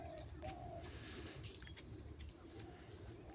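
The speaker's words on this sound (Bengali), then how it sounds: "চারদিকে ঘুঘু ডাকতেছে" Soft, low cooing of doves repeats a few times in the distance over a quiet outdoor background on a foggy winter morning.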